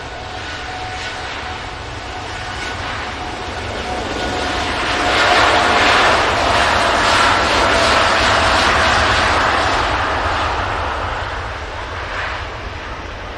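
A jet airliner climbs out from the south side of Manchester Airport, its broad roar swelling to a peak midway through and fading again, steady and fairly loud with no talk.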